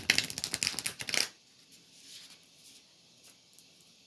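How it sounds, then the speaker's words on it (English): Quick riffling patter of a tarot deck being shuffled, dense crisp card flutters for about a second, then faint scattered taps and rustles as the cards settle. "Let me shuffle them real quick."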